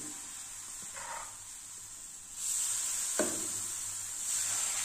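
Patishapta pitha batter sizzles on an oil-brushed tawa with a soft, steady hiss close by, brightening midway as the pan heats, with a couple of faint scraping touches.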